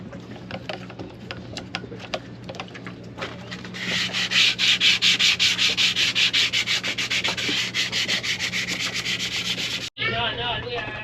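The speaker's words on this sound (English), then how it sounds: "cleaning that off, sanding it down a little bit" Sanding corrosion off the inner tube of an SSL715 skid steer during bushing work: a loud, steady rhythmic scrubbing rasp that starts a few seconds in and runs continuously before stopping abruptly near the end.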